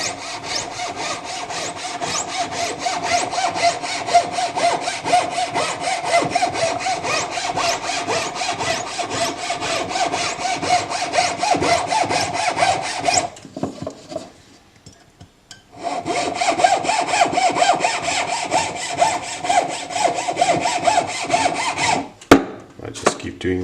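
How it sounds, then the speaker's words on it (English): Hand saw cutting a groove into a metal spacer for a dagger, with steady rapid back-and-forth rasping strokes, loud and close, pausing briefly midway before sawing resumes and ending with a sharp knock. "Notice how I guide the blade with my finger before I start applying pressure to the blade and actually sawing a groove."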